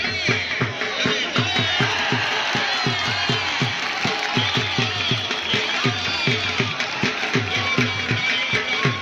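Crowd at a Pakistani club match between Pulwan Club and Mianwali Club, loud rhythmic clapping in fast repeating patterns with cheering and shouts mixed in throughout.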